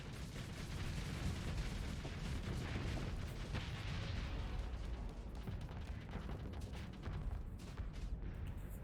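Phase lancer and ion cannon fire in the space combat game Starsector: a dense, continuous barrage of booming, crackling weapon blasts layered over one another, loud and sustained with no pauses or voices.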